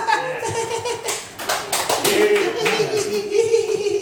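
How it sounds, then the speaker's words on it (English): A comedy club audience gives a comedian a short burst of clapping mixed with some laughter, with the comedian talking over it. "Just give me the mercy claps, mercy laughs."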